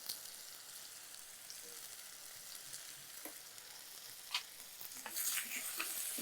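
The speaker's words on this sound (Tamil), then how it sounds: "இதை ஒரு ரெண்டு நிமிஷம் அப்படியே வதக்கி எடுத்துக்கலாம்" Tomatoes and onions sauté in a pan with salt for a rasam, making a soft steady sizzle with occasional spatters that grow slightly livelier near the end. No one talks.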